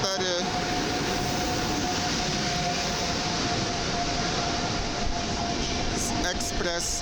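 An EU44 Husarz electric locomotive, number EU44004, rolls into a platform at Warszawa Zachodnia station with a loud, steady broadband rumble and a sustained tonal whine running through the whole stretch.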